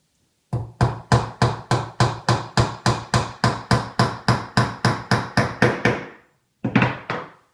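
A hammer drives a skinny finishing nail into a wooden shim for a beehive, about seventeen crisp, evenly spaced taps in a fast steady rhythm, then a short pause and two final blows, close and loud with no talk.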